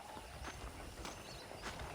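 Horse hooves clip-clop in the Western video game Red Dead Redemption, a soft steady run of hoof beats heard faintly over a constant background hiss.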